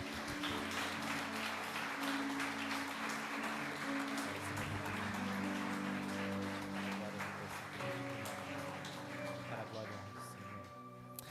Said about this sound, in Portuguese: Aplauda o Senhor aí no seu lugar.